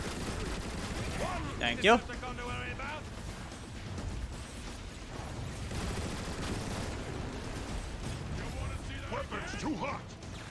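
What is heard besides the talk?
gunfire in Transformers War for Cybertron video game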